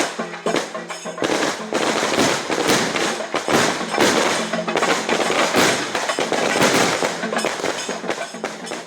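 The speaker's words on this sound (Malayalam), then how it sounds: "ആശുപത്രി കോമ്പൗണ്ടിൽ അത്യാഹിത വിഭാഗത്തോട് ചേർന്നായിരുന്നു പടക്കം പൊട്ടിച്ചത്." Firecrackers burst in a dense, rapid chain in a hospital compound beside the emergency ward, set off to welcome the health minister; loud, close cracks and thuds run continuously without a break.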